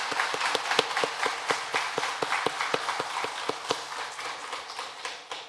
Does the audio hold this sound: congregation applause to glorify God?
yes